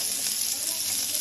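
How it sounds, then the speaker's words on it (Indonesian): Shallots and garlic fry in hot oil with a steady, bright sizzle that holds at a moderate level from start to finish, close by and without talk. "Nah ini sekarang goreng bawang merahnya dulu. Langsung kita goreng bawang putihnya juga sekalian aja."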